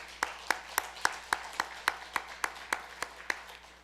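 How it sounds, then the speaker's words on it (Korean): Clapping in a Korean church congregation during a Sunday worship service, heard as a single person's sharp, evenly spaced claps, about a dozen in a steady beat, quiet and fairly close in a hushed room. "어머님께도 박수 한번 보내드리면 좋겠습니다"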